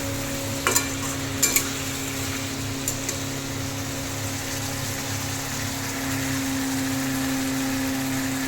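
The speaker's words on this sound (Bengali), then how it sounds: "এই মশলার সাথে আলু, মশলা, পটল সব একসাথে ভালোভাবে কষাবো।" Fried pointed gourd and potato stir-fried in spice paste, a low steady sizzle with a few sharp spatula clinks early on, over a constant background hum.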